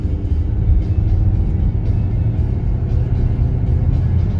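A 2012 Chevrolet Cruze 1.8 LS with an automatic gearbox and 91,000 km pulls away and accelerates, giving a continuous low engine drone and rumble heard from inside the cabin, steady and fairly loud, with no talking.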